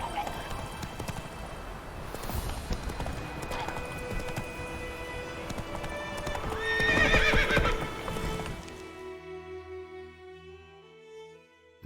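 Roach the horse gallops in The Witcher 3, steady clip-clop hooves with a whinny, under game music and battle noise before the sound drops away near the end.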